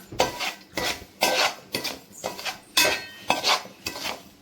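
Two kilograms of semolina roasted on low flame for jaggery rava laddu, stirred in a pan with a ladle: a rhythmic series of loud, close scraping and rasping strokes about twice a second.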